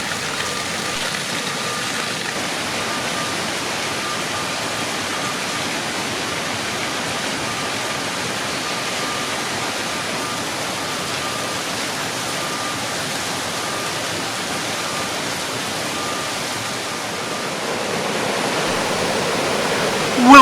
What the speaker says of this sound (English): A water wheel generating electricity.